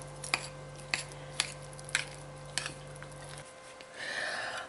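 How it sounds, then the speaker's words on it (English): Spoon scraping and tapping against a bowl as spices are stirred into a ravioli cheese filling, about six sharp clinks at a steady rhythm, close and fairly quiet, ending in a brief soft shuffle. "Now we're going to mix these up."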